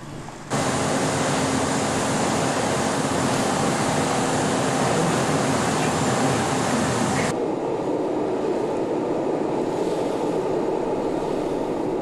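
A boat powers through rough seas off southern Australia, its engine and hull producing a loud, steady roar of rushing water and spray that drops in intensity partway through, with no voices.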